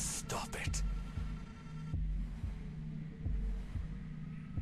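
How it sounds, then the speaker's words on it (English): A slow, deep heartbeat sound effect from the game 2064: Read Only Memories thumps at regular intervals over a low hum, with a few sharp clicks at the start. "Your heartbeat is like sonar to me."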